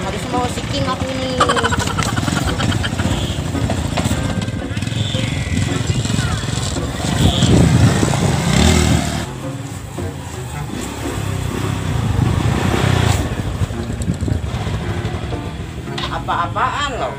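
A motorcycle engine runs and revs near an online motorbike taxi pickup, a steady mid-level drone that swells around the middle, with people talking over it throughout.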